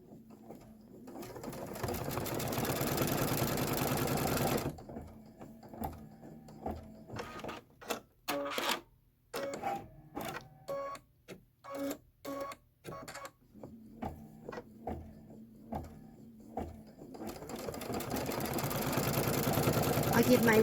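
Embroidery machine stitching a window placement line for a Kimberbell fire station design, its rapid mechanical needle chatter running in bursts with brief pauses and longer runs at start and end, with faint talk in places.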